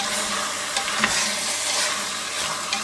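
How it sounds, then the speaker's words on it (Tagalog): Chicken browns in a pot for Filipino tinola, crackling and sizzling close up while it is stirred, with the scrape of the spoon coming through in short bursts. "Kaya natin medyo ma-brown yung chicken"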